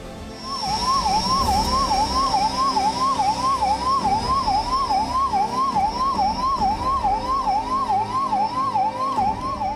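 A hi-tech ambulance siren wails in a fast, regular up-and-down cycle, loud and close, with road noise underneath throughout.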